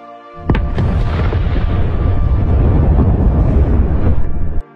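A huge, sustained film explosion roars with deep rumbling and crackling debris for several seconds, loud and close, then cuts off abruptly.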